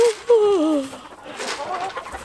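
A farmyard chicken lets out a couple of short, close clucks with a brief rising call as whole corn is handed out on a homestead, followed by quieter rustling.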